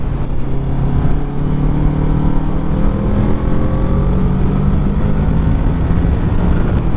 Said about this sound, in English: So I'm out here on the interstate, and this wind deflector, I mean, obviously I can still feel every little bit of wind.